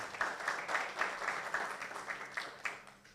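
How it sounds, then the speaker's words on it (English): A university arts festival audience applauds a home team at a competition in Jamaica, with a crowd of clapping hands swelling in bursts and then gradually thinning out. "let's give them as well a round of applause."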